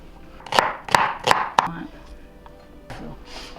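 Knife strikes on a cutting board as a small onion is chopped for a healthy tomato bisque: four sharp, evenly spaced chops close by, then a pause and a softer cut, with some low talk in between.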